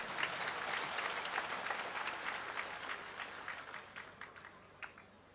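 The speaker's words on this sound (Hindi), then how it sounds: "अब ताली उली जोर से बजाओ तब तो गा" Sustained applause from an audience at an outdoor saint gathering in Lolesara, Bemetara district, steady dense clapping that slowly thins toward the end, heard from a middle distance.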